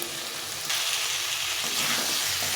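Potatoes and green peas sizzle while being sautéed in a spice mix of tomato and chilies, a close, dense frying hiss that gets louder partway through as stirring stirs it up, with no voices.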